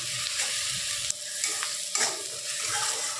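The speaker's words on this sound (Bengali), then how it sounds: "এবার পেঁয়াজটা একটু নরম করে ভেজে নেব আমরা হাফ বয়েল করে।" Onion sizzles as it fries in a pan for a potato chokha, a steady close hiss broken by a few scraping stirs of the spoon, with no talking.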